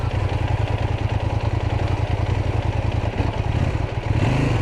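A CFMOTO 800MT-X adventure motorcycle idles off-road with a close, steady throbbing rumble and some mechanical clatter, then the engine note shifts abruptly as it stalls near the end.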